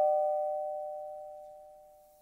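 A doorbell chimes once in a story read aloud, a single clear tone that rings out and slowly fades with no talking.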